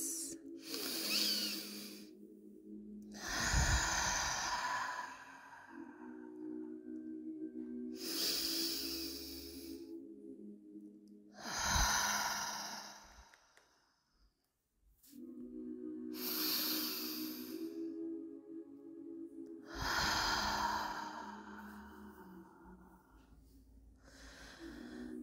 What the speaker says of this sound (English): let's begin by taking three deep breaths